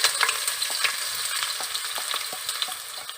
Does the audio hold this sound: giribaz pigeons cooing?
no